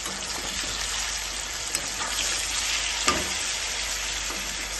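Broad beans and spices sizzle steadily in a frying pan, a dense even crackle with a couple of brief stirring knocks and no voices.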